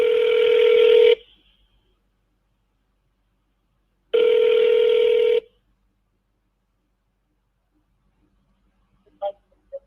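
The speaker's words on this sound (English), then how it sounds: "I'm making some seller calls." Telephone dialing for an outgoing call: two long, loud steady electronic tones about three seconds apart, followed by silence and a few faint short beeps near the end.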